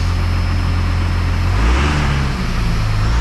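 A first-generation Dodge truck engine drones loud and steady inside the cab, then its pitch climbs as it speeds up when cruise control resumes, holding a rougher, higher hum afterward with no talking.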